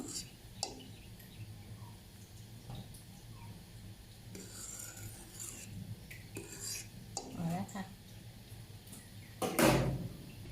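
A spoon skims foam off strained pumpkin custard, giving soft scrapes and clinks against the bowl at irregular intervals, with one louder knock near the end, all fairly quiet.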